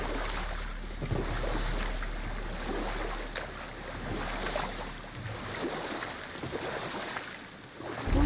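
Boat gliding onto sea water in God of War, a steady wash of waves and rushing water with a low rumble throughout, swelling briefly at the end.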